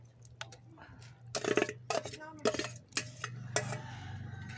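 A ladle stirs a pot of vegetable khichuri with cauliflower, carrots, peas and beans, giving repeated clattering scrapes and metallic clanks against the pot in uneven bursts, with voices nearby.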